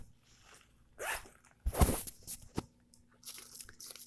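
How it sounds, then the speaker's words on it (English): A zipper is pulled open in a couple of quick rasping bursts, close by, with soft rustling and handling noises around it in a quiet room. "And there's a zipper."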